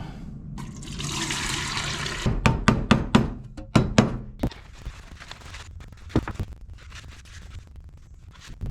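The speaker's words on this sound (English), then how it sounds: "So let's pour this back in the container." Liquid from a 1982 Ford F-150 302 carburetor cleaning job is poured back into a container, a brief splashing stream followed by a string of sharp knocks and clinks from handling the parts.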